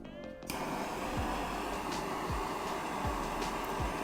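A torch roars steadily and close as it heats a 1/2 inch copper pipe for soldering, a loud constant rushing hiss that starts abruptly after a brief quiet moment.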